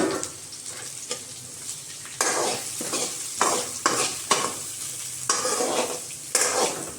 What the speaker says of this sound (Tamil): வெங்காயத்தை நல்லா வதக்கணும்.